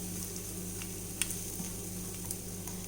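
Mustard seeds and dal sizzling in hot oil in a pan for a pickle, a steady soft frying hiss with a few faint pops, no voices.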